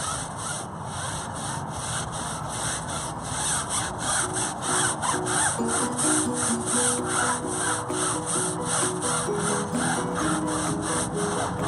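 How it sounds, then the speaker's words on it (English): A stiff-bristled brush scrubs the inside of a car wheel with a steady, rapid, rasping back-and-forth rhythm, close and continuous, with no voices. "I really want to really get scrubbing inside there, and so I have this brush right here, which has a much more firmer bristle"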